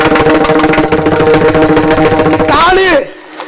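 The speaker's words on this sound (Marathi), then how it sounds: "मृदंग." Mridang drum beaten in a steady, dense rhythm during a comedy kirtan, with melodic accompaniment underneath; a voice rises over it near the end before it cuts off.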